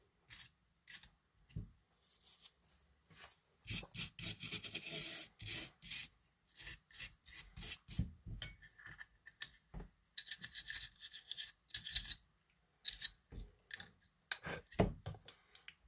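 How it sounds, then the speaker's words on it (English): A toothbrush scrapes debris off a Famicom circuit board in quick bursts of dry bristly rubbing, close and faint, separated by short pauses. "try and just scrape it all out using this toothbrush here"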